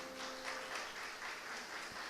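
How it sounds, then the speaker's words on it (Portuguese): Congregation applauding parents during a religious service, a soft, steady patter of many hands clapping at moderate distance for a couple of seconds. "A estes pais eu quero dar os parabéns e peço que você aplauda estes, por favor."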